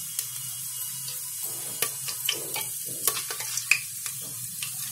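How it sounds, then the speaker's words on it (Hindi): Whole spices fry in ghee in a pan as a base for vegetable pulao, giving a soft steady sizzle under scattered sharp scrapes and clinks of a spoon stirring, close and fairly quiet, with no voices. "मसाले में थोड़ा सा भून लेंगे।"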